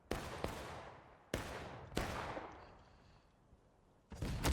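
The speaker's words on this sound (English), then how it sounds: "Somehow Hudson and Godhunter survived that arty shot that landed on top of the cannon they were rolling" Artillery shells land in a large multiplayer war video game, four sharp booming impacts, each with a long decaying rumble, spaced irregularly over a few seconds.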